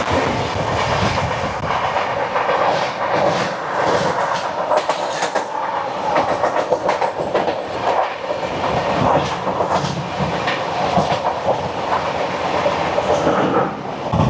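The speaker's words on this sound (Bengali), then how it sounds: "মালদা টাউন থেকে এসএমবিটি বেঙ্গালুরু অমৃত ভারত এক্সপ্রেস" The Malda Town to SMVT Bengaluru Amrit Bharat Express rushes past close by, a loud, sustained roar of wagons with steady clickety-clack of wheels over rail joints and no voices.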